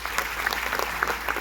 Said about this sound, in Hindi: जबरदस्त ताली हो जाए,